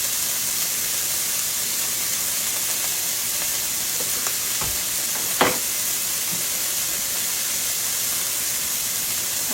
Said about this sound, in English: I'm going to saute that just a little bit